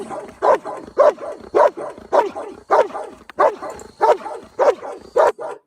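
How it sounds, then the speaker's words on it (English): A trained dog gives about ten short, punchy barks in an even rhythm, each one close and loud. Faint clicks of its teeth snapping shut fall between the woofs. "did you just hear that sort of intermittent like click and then woof, click, woof, click? That's the bark"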